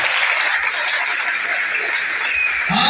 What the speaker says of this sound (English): We are going now to clap for our Lord Jesus.